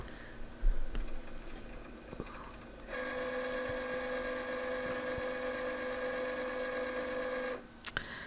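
A vinyl cutting machine powering on: a few small clicks, then a steady electronic hum that holds for about five seconds and ends with a sharp beep-like click.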